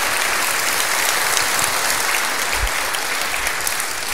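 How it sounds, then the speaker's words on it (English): An Easter Sunday church congregation claps in praise and celebration, a dense, steady wash of applause from many hands that fills the room evenly for the whole stretch without letting up. "How about a hand clap of praise and celebration?"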